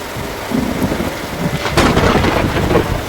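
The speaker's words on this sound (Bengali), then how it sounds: "বিশাল জোরে বৃষ্টি" Heavy rain pours down in a dense, constant hiss while thunder rumbles loudly through the short stretch and swells near the middle.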